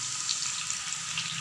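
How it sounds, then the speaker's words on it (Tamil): Omavalli (karpooravalli leaf) pakoda frying in hot oil, giving a steady, close, continuous sizzle and crackle with no talking. "ஓமவல்லி பக்கோடா நல்லா வெந்துட்டுருக்கு."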